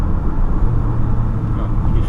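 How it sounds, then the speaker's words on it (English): Mercedes-Benz GLB petrol hybrid with 161 hp on a night drive, its engine a loud low drone mixed with road and cabin rumble, heard from inside the car. "No, you just hear the engine."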